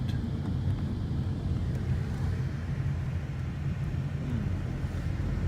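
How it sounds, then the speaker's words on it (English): Steady low rumble of a car driving through the streets of Sderot near the Gaza border, continuous engine and road noise with wind buffeting the microphone, no talk. "Driving through Sderot."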